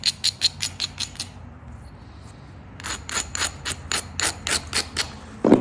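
Sharp, evenly spaced strikes from flint knapping along the bevel of a Georgia jasper point, a quick run of clicks, a pause with faint handling, then a longer steady series of close, crisp taps.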